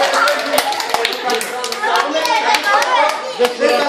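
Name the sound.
audience clapping loudly for Zlati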